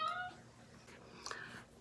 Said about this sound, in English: my cat was going a little crazy